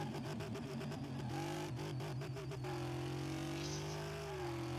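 A car's engine in Car Mechanic Simulator buzzes hard against the rev limiter, stuttering in rapid cuts before it settles into a loud, steady high drone.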